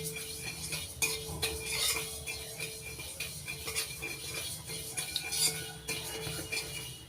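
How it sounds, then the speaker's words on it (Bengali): Cumin seeds dry-roasting in a hot kadai over a low gas flame, with soft scraping and stirring of a spatula and light metallic clinks, quiet and close, no talking. "এখন আমি শুকনো খোলায় জিরে ভেজে নিচ্ছি।"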